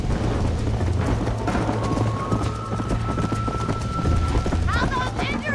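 Horse hooves clip-clop in a fast, steady galloping rhythm during a horse race in the video game Red Dead Redemption, continuous under game music and a voice urging the horse on.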